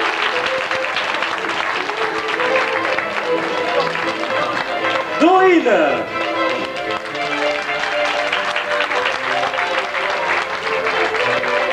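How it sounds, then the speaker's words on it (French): Audience applause at an amateur dance show, a steady wash of clapping from a crowd throughout, with a voice announcing names over it and a short cheer or whoop in the middle. "Des gros applaudissements pour Fiona."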